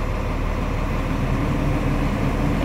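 Truck defroster fan blowing at full speed, a steady, loud broadband whoosh of air with a low hum, continuous and unchanging, with no talking.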